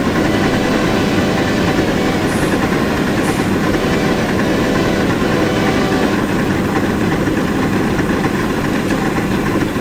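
Shay steam locomotive in a video game working hard under heavy load, a loud, steady chuffing and mechanical roar that runs unbroken throughout, with a faint high whistle tone barely showing above the din.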